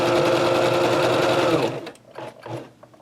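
A sewing machine stitches a skirt hem in one fast, steady close-up run of about a second and a half, then stops, leaving only faint handling noises of fabric.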